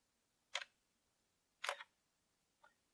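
Camera shutter clicks during computer-tethered shooting indoors in dim light, two crisp close clicks about a second apart followed by a fainter third, each standing out against near silence.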